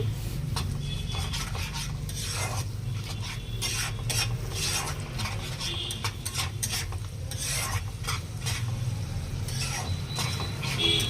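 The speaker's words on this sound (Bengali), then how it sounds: "এরপর ভালো করে নেড়ে নেব।" Masala with turmeric, salt and sugar is stirred in a pan for prawn malai curry, a steady scraping rasp of spatula against metal repeating throughout over a low frying sizzle, close and continuous with no talking.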